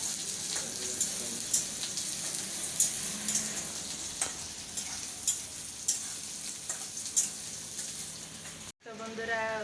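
Very hot cooking oil sizzles in a pan on a gas stove with a steady close hiss punctuated by sharp clicking spatters, before a sudden cut to a short voice at the end.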